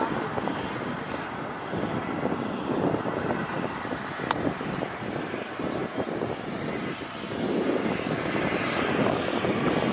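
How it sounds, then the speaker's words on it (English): A Virgin airliner departs from the north-side runway, a loud continuous jet engine roar that swells toward the end, heard at a distance with some wind buffeting. "And there goes Virgin for departure on the north side."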